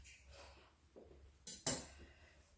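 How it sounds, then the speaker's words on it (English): A kitchen knife is picked up while homemade pasta is being prepared, producing a quiet rustle followed by two quick, bright metallic clinks close by. "I'm just going to grab a knife"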